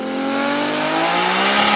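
A Nissan Skyline with a turbo, heard as one loud, continuous engine and turbo roar that holds steady with a faint rising pitch, close and without pause.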